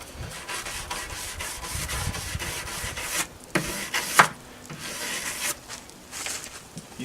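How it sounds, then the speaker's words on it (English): Brush strokes rubbing across a wooden dresser, a soft, even scratching that breaks off briefly partway through and includes one sharp tap. Nobody speaks. "Brush it one time."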